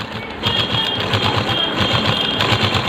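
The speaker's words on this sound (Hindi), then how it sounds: "ये देखिए ये मशीन चल रही है" A sewing machine stitching through a double layer of fabric runs steadily with a fast, even mechanical clatter and hum, close and fairly loud, with no voices.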